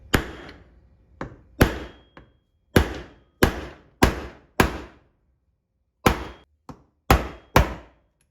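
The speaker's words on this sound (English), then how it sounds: "get yourself a punch and a hammer" Hammer striking a punch against the rivets of a Banshee clutch basket, ten or so sharp, loud metallic blows at uneven intervals, each ringing out briefly before the next, with no talking.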